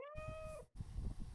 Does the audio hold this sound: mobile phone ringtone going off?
no